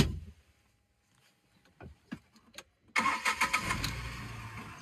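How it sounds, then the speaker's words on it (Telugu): A 2020 Tata Tiago XT hatchback engine cranks and catches after a few faint clicks, then settles into a loud, steady idle close by. "ఇంజన్ కూడా చాలా స్మూత్ కండిషన్ లో ఉంది"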